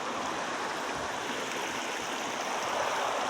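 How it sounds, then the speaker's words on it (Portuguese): A waterfall on a farm pours with a strong, continuous rushing roar of tumbling water, close and steady from start to finish, with no speech over it. "Tomar banho nessa cachoeira."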